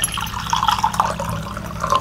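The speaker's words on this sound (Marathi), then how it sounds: "तर मी पाणी घालते." Water pours steadily into a cooking pot in a home kitchen, a continuous bubbling gurgle close by, with no talk.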